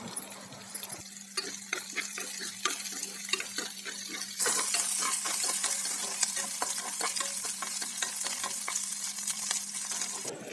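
Sliced onions and curry leaves sautéing in a pan for a curry, with steady sizzling frying and repeated scraping stir strokes, close and moderately loud throughout, getting busier midway.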